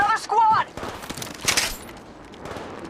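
Bursts of rapid gunfire from the mobile battle royale game Apex Legends, a loud volley at the start and another mid-clip, with game voice lines and effects mixed in.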